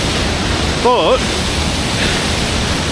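Steady broadband roar of a waterfall heard from up on an embankment at Wensley in Yorkshire, constant and enveloping, with a brief spoken word near the start.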